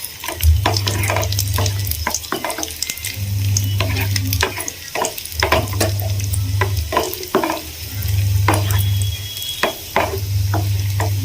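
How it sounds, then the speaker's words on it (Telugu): Cashews and raisins frying in a pan sizzle steadily, with sharp spoon-on-pan scrapes and stirring clinks at an irregular rhythm, and a low recurring hum pulsing underneath. "ఇందులోకి కొన్ని కిస్మిస్ ని యాడ్ చేసుకొని ఫ్రై"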